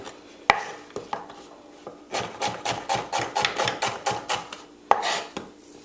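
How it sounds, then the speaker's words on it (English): An onion is sliced into half rings with a knife on a cutting board: a few separate chops, then a quick, steady run of crisp cuts, and a last sharp chop, all close and clear with nobody speaking. "Just going to cut it in half and then just half a rings."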